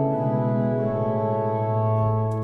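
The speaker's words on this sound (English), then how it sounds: "So the diapasons on this organ sound a bit like this." Diapason stops on the swell division of a pipe organ sound a full, sustained chord, rich and steady and held loud throughout without a break.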